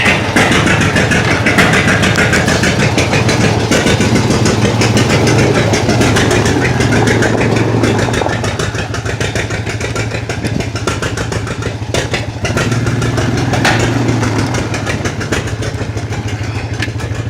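An old John Deere tractor engine idles loudly and steadily up close, its low chugging rumble continuous for the whole stretch with no talking.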